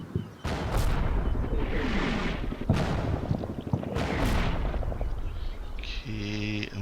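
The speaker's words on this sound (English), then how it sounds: "So we can't really advance across this field until that artillery stops." Artillery fire in the Combat Mission video game, with repeated booming impacts and blasts layered over a dense, continuous rumble of battle, loud and close throughout.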